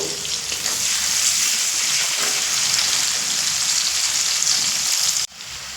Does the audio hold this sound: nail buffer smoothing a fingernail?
no